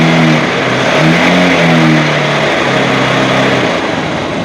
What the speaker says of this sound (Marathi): आता रेस करतो मी गाडीला.